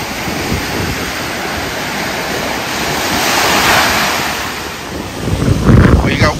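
Strong, steady wind at a beach, roaring across the microphone with continuous rushing noise and surf underneath, swelling slightly midway and gusting louder toward the end.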